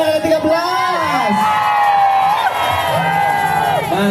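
Carnival crowd from neighbourhood RW 13 at a village parade in Cibeusi, cheering, whooping and shouting together in a loud, sustained roar, with children's voices and rising calls throughout.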